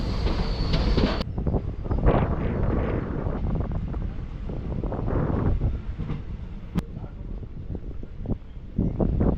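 The Palakkad Express train departs Dindigul railway station, rumbling along with steady low-end noise and wind buffeting the microphone, a continuous rolling sound throughout.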